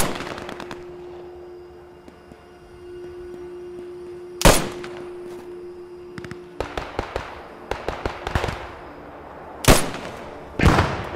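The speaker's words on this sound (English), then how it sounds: "Enemy artillery coming." Enemy artillery fire in the video game Post Scriptum: sharp distant blasts and crackling impacts erupt intermittently, with a couple of louder booms standing out over a low battlefield rumble.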